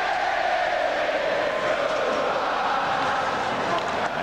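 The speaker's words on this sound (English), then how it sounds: "Richard Pilon, with some of his crowd singing the goodbye song, the na-na-na." Hockey crowd at a 1993 New Jersey at New York Islanders game singing the na-na-na goodbye chant, a broad distant swell of many voices filling the arena throughout.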